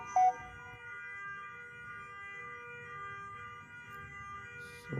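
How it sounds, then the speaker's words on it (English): A wireless fire alarm sounder in a resort building sounds a steady, continuous electronic tone with layered pitches, heard at moderate distance without any voices. "this is sounder cum flasher which is installed on this wall"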